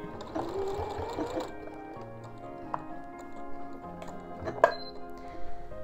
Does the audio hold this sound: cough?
no